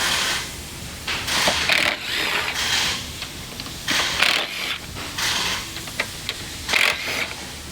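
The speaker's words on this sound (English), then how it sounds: "Now you'll need to take off your top 3 bolts here on your kick panel." A ratchet working loose kick panel bolts on a Can-Am Defender: bursts of rapid mechanical clicking close up, repeating in short runs with brief pauses between, with no talk.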